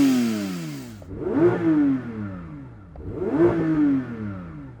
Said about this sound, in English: The old Porsche GT trick of putting it in drive, pulling up both paddles, and then it lets you rev it out while the car's stationary.